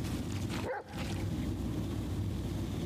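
A dog barks in a video game, a short sound over a steady noisy background, heard alone without talk.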